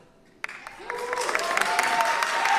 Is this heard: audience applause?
yes